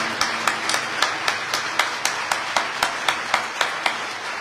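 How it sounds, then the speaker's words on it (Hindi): In a worship service, rhythmic clapping beats out a steady, evenly spaced pulse of sharp claps, close and fairly loud, continuing for several seconds. "मैं चाहता हूं जोरदार तालियां खुदा के खादिम के लिए"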